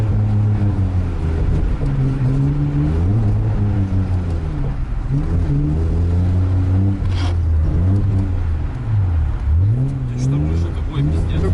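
A car drifting on ice at a winter drift competition, its engine revving hard in continuous rising and falling sweeps, loud and close throughout, with people talking over it.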